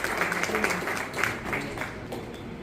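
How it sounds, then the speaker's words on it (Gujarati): Applause at an installation ceremony for a Giants Group chapter: a crowd claps in a steady, moderately loud patter for a few seconds, thinning slightly toward the end. "તો એમના માટે જોરદાર પહેલા તાળીઓ થઈ જાય"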